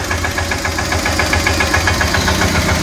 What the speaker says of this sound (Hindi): ये स्वराज 717 ट्रैक्टर है